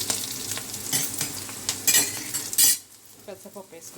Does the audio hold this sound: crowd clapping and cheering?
no